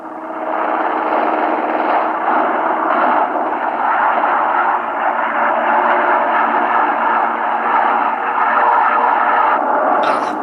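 A small airplane engine drones steadily and loudly for the whole stretch, a sustained close hum as the plane flies, with a brief higher whine near the end.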